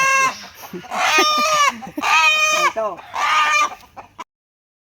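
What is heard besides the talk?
tied chicken clucking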